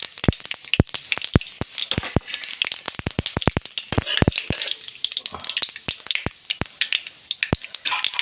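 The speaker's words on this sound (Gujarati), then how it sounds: "હવે રાઈ કકડી ગઈ છે તો થોડુંક આપણે નાખીશું જીરું" Mustard seeds and cumin are tempered in hot oil for bataka pauva, giving dense, close sizzling with sharp seed pops crackling irregularly throughout.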